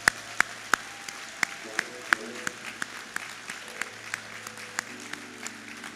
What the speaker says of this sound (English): let's give them all a big MEAC round of applause